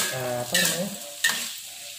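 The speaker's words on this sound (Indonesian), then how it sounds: "ini ditumis dengan minyak sedikit dengan apinya yang kecil ya" Ingredients for a salted squid and jengkol sambal sautéing in a little oil on low heat, a close, steady sizzle with two brief scraping stirs.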